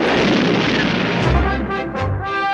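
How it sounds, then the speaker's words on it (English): Stun grenades go off during a fight in a 1986 animated G.I. Joe battle scene, a dense run of loud, booming blasts and bursts that fill the whole clip with heavy low rumble. "He used stun grenades!"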